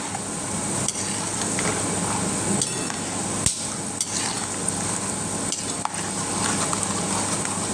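Small red peanuts deep frying in oil for a Diwali chivda, a steady dense sizzle throughout with a few sharp knocks of a spoon against the pan; no talk.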